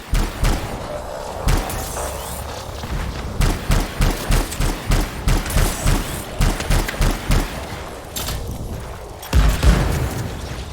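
In the Anthem video game, a long run of loud gunfire bursts and thudding explosions hammers away in a rapid rhythm, with heavier booms near the end.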